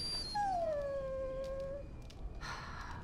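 A dog in Dragon Age: Origins gives one drawn-out whimpering whine that slides downward, close and clear, followed by a few soft breathy sounds in a quiet setting.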